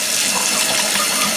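Water runs steadily from a Pfister LG01-8CPC three-handle tub and shower faucet, a continuous broad hiss and splash at close range, alone and unbroken throughout.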